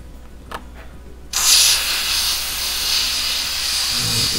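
An airbrush spraying black paint over a stencil while painting a shark, a steady close hiss that starts abruptly partway in and continues alone, following a couple of faint clicks.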